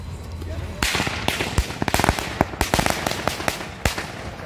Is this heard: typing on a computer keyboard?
no